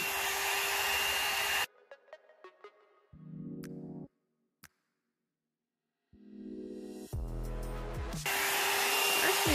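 GEM hot air brush blowing while drying hair, a loud, steady airy roar that cuts off, gives way to short quieter bursts and clicks, then returns at full strength.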